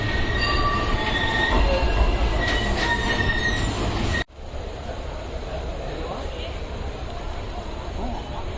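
A train rumbles along the rails at Yesvantpur railway station, Bangalore, with high metallic wheel squeals, then shifts abruptly to steadier rolling noise. Faint voices sit underneath.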